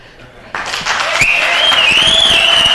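Audience clapping breaks out at a city council public hearing after a speaker urges a no vote on 476 high-density apartments, swelling from scattered claps into steady, loud applause that fills the room, with a whistle-like tone over it.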